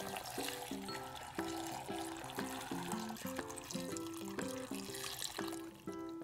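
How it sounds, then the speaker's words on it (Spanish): Water pours in a soft, continuous trickle into a blender over carrots, celery and apple, faint beneath louder background music. "le agregaremos el agua"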